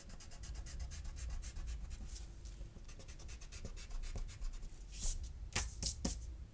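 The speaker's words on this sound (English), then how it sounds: "we're going to erase what we don't need" An eraser rubs pencil lines off paper in quick, rhythmic back-and-forth strokes, a close and soft scratchy scrubbing that grows firmer toward the end.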